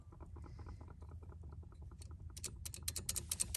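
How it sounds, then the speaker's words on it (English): A pressure plate on a water valve clicks in a rapid, irregular patter of small taps that grows denser and sharper toward the end, close and fairly quiet with no talk. "This clicks and it's supposed to turn on the water."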